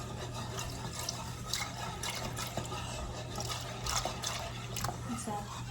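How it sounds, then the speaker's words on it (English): Milk pours into a pan while five-cheese tortellini is being cooked, a soft continuous liquid trickle under a steady low hum, faint and fairly close. "Add some milk."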